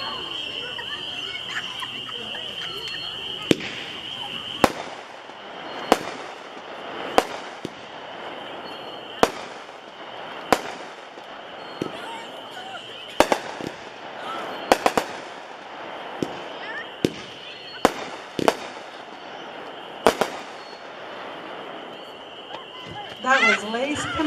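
Lace Combustion, a 15-shot firework repeater by Winda, fires a run of sharp, loud bangs at irregular intervals over steady background noise and crackle, with a faint voice talking in the background.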